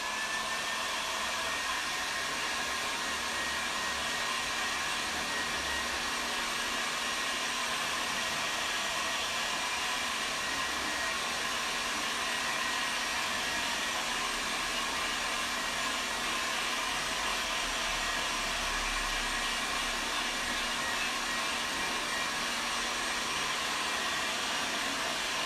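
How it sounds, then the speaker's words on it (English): A hairdryer blows steadily to dry fresh acrylic-style paint on an Easter bunny painting, a continuous even whoosh held close and alone for the whole stretch. "give it a blast with the hairdryer, and we can get that dry."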